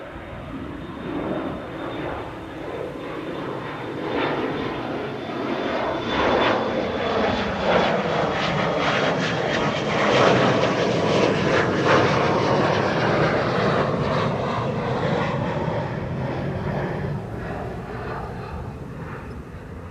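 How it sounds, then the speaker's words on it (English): A KLM airliner on flight 603 to Los Angeles passes near Amsterdam Schiphol Airport, its jet engines building to a loud, close roar at mid-pass with a shifting whine, then easing off slightly as it moves away, no speech heard. "KLM flight 603 to LAX is also coming this way"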